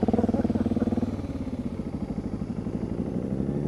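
A 650 motorcycle engine runs while cruising, a close, loud, pulsing mechanical drone with a rapid even beat that drops slightly in pitch after the first second and then holds steady.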